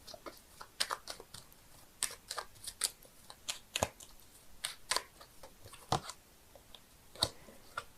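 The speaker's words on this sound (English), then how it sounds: "I'm shuffling the cards here, seeing if I can get a clarifying card" Tarot cards are being shuffled at close range, with soft, irregular clicks and flutters as the cards slide and tap together, quiet and without voices.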